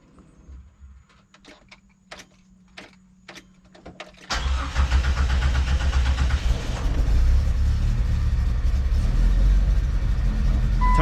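A Jeep running on a fuel cell cranks and starts after faint fuel-pump clicks and short bursts, then settles into a loud, steady engine rumble that continues to the end.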